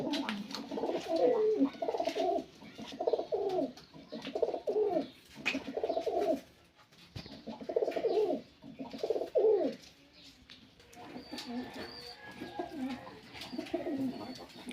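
Pigeons coo in a loft, repeated throaty rolling coos in close bursts separated by short pauses, with faint background rustles.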